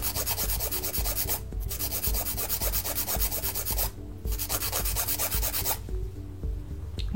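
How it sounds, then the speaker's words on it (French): Nail file rubbing back and forth over an acrylic nail extension built on a form, steady rhythmic rasping strokes, close and continuous with two brief pauses. "Vous allez limer selon la longueur de son ongle naturel."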